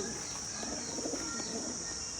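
Pigeons coo faintly in a loft, soft low murmurs under a constant high hiss and background noise.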